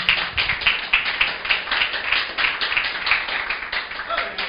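A church congregation claps in a steady, rhythmic beat, a crowd of hands sounding fairly close and moderately loud, continuing alone for several seconds.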